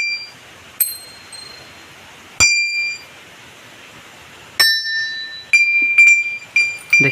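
Small temple bells at a shrine ring in sharp metallic strikes, four or five separate dings spaced unevenly, each leaving a bright ringing tail over quiet room tone.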